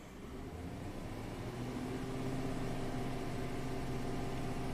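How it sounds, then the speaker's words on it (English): Ford F150 pickup engine, a truck with timing codes and low power, revving up from idle, a steady rising drone with harmonic hum that swells and holds, close and loud with no talk. "So I'm going to rev it up."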